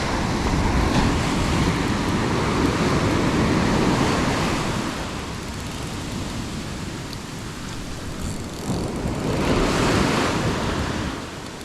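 Waves break and wash up on an isolated beach, a loud, rolling roar of surf that swells and eases over several seconds, mixed with wind buffeting the microphone and no talking.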